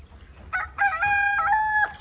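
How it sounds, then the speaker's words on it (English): A rooster crows loudly and close by, a single drawn-out cock-a-doodle-doo with a strained, rising cry, over a quiet background. "Mr. Rooster."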